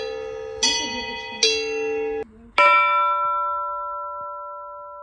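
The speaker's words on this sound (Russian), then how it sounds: "Зашли в старинную церковь, поднялись на самый верх и даже позвонили в колокола." Bells are struck three times at the top of an old wooden church in Yakutia, built without a single bolt. Each clear, close, ringing strike lets its tone hang, and the last one fades slowly.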